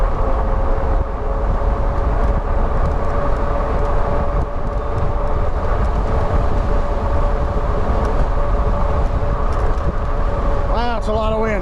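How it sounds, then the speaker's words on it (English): Strong wind roars steadily over the rider on a Wallke H9 AWD e-bike ride at sunset, a dense continuous rumble throughout, with a voice talking briefly near the end. "Wow, it's a lot of wind."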